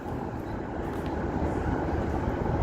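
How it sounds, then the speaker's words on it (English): The Overland passenger train to Adelaide heard from on board, a steady low rumble and rolling rattle of the carriage running throughout, with no talk. "this is the overland, the train to Adelaide"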